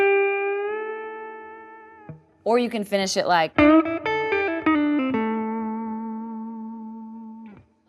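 Electric guitar plays a country-blues lick with a string bend, sustained notes ringing out, a quick raked run in the middle, and a spoken phrase in a break partway through.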